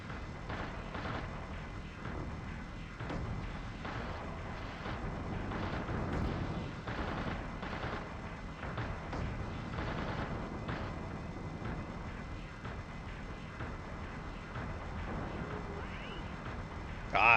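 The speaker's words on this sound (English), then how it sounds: "Target locked, firing." Mech weapons firing in the video game Steel Battalion: a quick series of muffled booming blasts over a continuous low rumble, fairly quiet and with no clear pause between shots.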